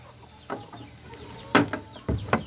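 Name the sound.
chickens clucking in coop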